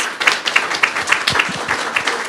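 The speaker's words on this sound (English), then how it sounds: "Can we give our presenters another round of applause?" A room full of listeners gives another round of applause to presenters at an interdisciplinary humanities research event, producing loud, close, continuous clapping with sharp individual claps throughout.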